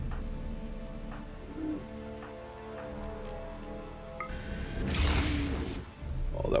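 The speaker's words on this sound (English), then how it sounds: "The rain never stops." Rain falls steadily in the video game RimWorld, a soft continuous patter under game music, ending in a louder whooshing crash near the end.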